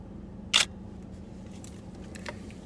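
A single crisp camera shutter release at moderate volume over quiet room tone, followed a moment later by a fainter second click.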